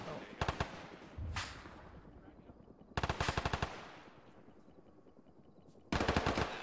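Three loud, rapid bursts of machine gun fire from a military video game, each lasting under a second, separated by quieter gaps with ambient battle noise.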